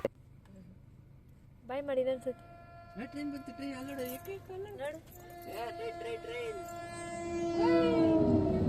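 A train passes nearby with sustained horn-like tones and a rumble that swells louder toward the end, while people talk over it.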